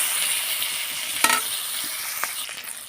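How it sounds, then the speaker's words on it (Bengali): Fried bhola fish stirred in oil in a wok, a constant near sizzle with a sharp clatter of the spatula striking the pan midway and a couple of softer scrapes after. "এর মধ্যে সব মাছগুলো তুলে দিলাম, দিয়ে একটু নেড়ে চেড়ে নেব"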